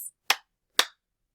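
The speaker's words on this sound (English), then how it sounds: "My turn. 2 claps." Two crisp hand claps, evenly spaced about half a second apart, close and sharp with silence around them in a first-grade classroom lesson.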